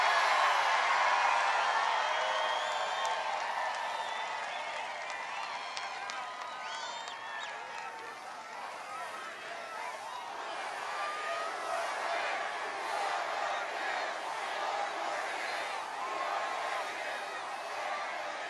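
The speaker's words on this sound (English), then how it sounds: "this is not the crowd of a person who comes in second place" A large political rally crowd cheering and roaring continuously, loud at first and then dipping slightly before swelling again, with scattered whoops and clapping throughout.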